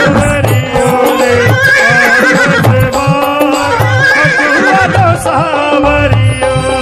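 A loud horse neigh sound effect whinnies through dense devotional music in a telling of the Khatu Shyam story, the wavering cries riding over continuous instruments.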